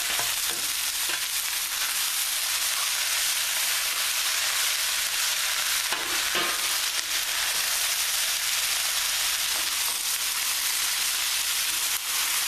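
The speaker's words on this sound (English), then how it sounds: "see it's sizzling now" Chicken sizzles in a pan over a high flame, a steady bright crackling hiss that runs continuously at moderate level, with occasional clicks and stirring scrapes.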